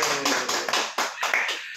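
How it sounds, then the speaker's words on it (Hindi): Brief clapping from a small audience right after a devotional bhajan song, a handful of scattered claps heard close and fairly loud with no talk over them. "तालियां बजा दो"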